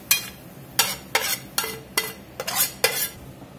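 Celery, onion and garlic go into a hot pan and are stirred, giving about eight sharp rhythmic scrapes and clacks of a utensil against the pan over a faint sizzle.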